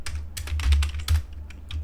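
Quick keystrokes clatter on a computer keyboard, close and steady, over a low background hum with no voice.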